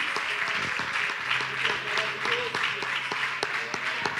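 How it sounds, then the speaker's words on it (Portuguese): A church congregation applauds the Lord during a worship service, steady dense clapping from many hands filling the room with a few sharper claps standing out, no speech over it. "Vamos dar uma salva de palmas ao Senhor."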